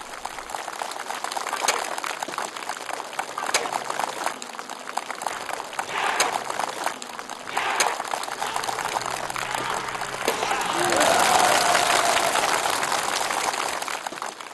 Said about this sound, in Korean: 동작을 연방 수행하고 있는 우리의 용맹한 청투원들에게 관중들은 열광적인 박수를 보내고 있습니다